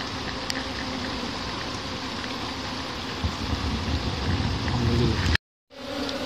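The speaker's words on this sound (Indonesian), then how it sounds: "Hujan." Rain falls as a continuous broadband hiss and patter, steady and fairly loud, briefly dropping out before resuming near the end.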